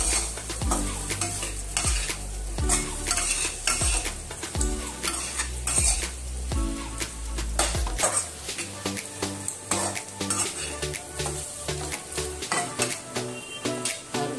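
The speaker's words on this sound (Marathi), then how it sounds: "आपण चांगलं हलवून घ्यायचं परत." Stuffed bitter gourd (bharli karli) being stirred in a pan, with a spoon scraping and clinking against the metal in repeated strokes over a soft sizzle, close and steady throughout.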